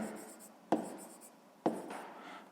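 Handwriting on paper during a sixth-grade maths exercise, a close scratchy scribble broken by two sharp taps of the pen, with steady stroke sounds between them and no voices.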